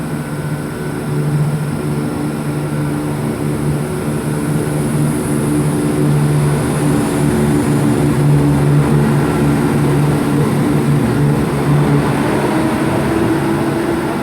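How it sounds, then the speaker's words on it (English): A Class 170 CrossCountry diesel unit pulls out of Cheltenham Spa station toward Nottingham, a loud, steady low engine drone with tonal hum that builds slightly as it departs, heard close throughout. "departing out the 10:59 cross-country service towards Nottingham"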